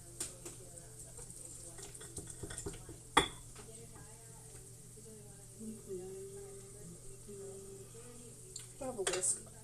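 A whisk clinks and scrapes in a bowl of crepe batter, with quiet rhythmic stirring and a few louder knocks against the rim under a low steady hum.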